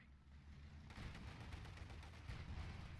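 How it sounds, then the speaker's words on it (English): Gunfire from a Company of Heroes 2 battle, with a dense, continuous rattle of shots and rumbling blasts that intensifies after the first second and carries steadily throughout, fairly quiet overall with no talk. "See that machine gun in the middle?"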